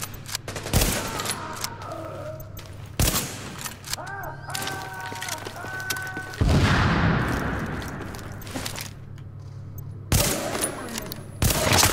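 Gunfire in The Division, a video game: several sharp bursts at irregular intervals over steady background music and game ambience, with a voice speaking briefly between shots.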